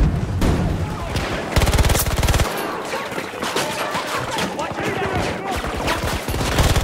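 Rapid automatic gunfire rattles in Battlefield 2042, loud and close, in long bursts with short gaps, mixed with dense chaotic battle noise; a player's voice talks over it at moments.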